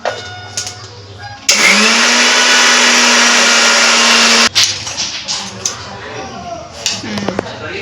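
A kitchen mixer grinder whirs loudly for about three seconds while grinding roasted sesame seeds and peanuts into a fine powder, starting abruptly and cutting off, with quieter kitchen clatter around it.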